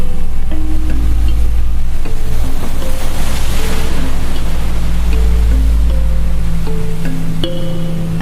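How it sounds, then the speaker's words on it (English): A giant ocean wave surges in a loud, continuous roar of rushing water and surf with wind, heard close and alone, with faint tonal notes drifting over it. "Suddenly, a giant wave surged from the ocean"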